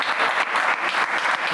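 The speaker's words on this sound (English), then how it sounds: "Can I give the lady a huge round of applause?" Steady, dense audience applause fills the whole short stretch after a card magic trick at an Edinburgh Festival live show, close and even with no voices over it.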